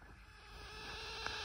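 Faint high-pitched electrical whine from a computer power supply choke coil, a steady thin tone with a soft hiss, heard alone and close.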